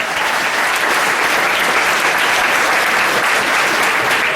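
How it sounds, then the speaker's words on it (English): Wedding guests at Aberdeen Manor give the staff a round of applause, a dense, steady wash of many hands clapping close and loud, unbroken for the whole stretch with no voices over it. "let's give a nice round of applause to the staff here at Aberdeen Manor"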